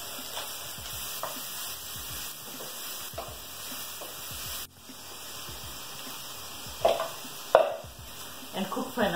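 Red onion seasoned with salt and black pepper cooks in a pan, a soft steady sizzle with occasional stirring clinks and scrapes, louder knocks toward the end.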